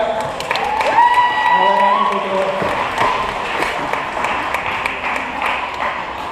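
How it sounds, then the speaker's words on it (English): A school crowd claps for a skateboard demo, steady applause with scattered cheers filling the space, fairly loud and continuous, with a brief tonal whine near the start. "let's give them a nice warm round of applause"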